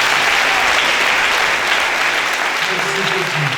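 A church congregation applauding Jesus in steady, dense clapping that fills the whole moment, with voices calling out over it.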